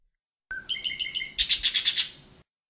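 A parakeet gives a clear run of bright chirps, first a quick string of thin tweets, then a louder burst of about six rapid, sharp calls, close and alone.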